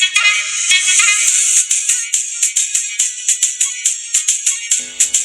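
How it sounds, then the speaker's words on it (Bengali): Music from a phone plays through a tiny homemade Bluetooth USB speaker. It comes out as a thin, tinny electronic melody of quick repeated notes in a bright, bouncy rhythm, clear and alone. "এবার চলুন ফোন থেকে একটি মিউজিক প্লে করি।"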